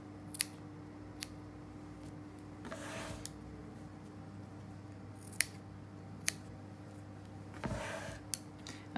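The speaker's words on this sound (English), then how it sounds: "then you have to cut off this fabric in the middle where your hole is" Scissors snip through fabric in the middle of a board being covered with fabric, giving a handful of short, crisp cuts spaced irregularly over a quiet, humming indoor background.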